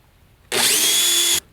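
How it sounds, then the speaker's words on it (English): A power drill whines at full speed for about a second, loud and close, starting and stopping abruptly as it bores through a plastic kayak hull. "place the drill on top of the star,"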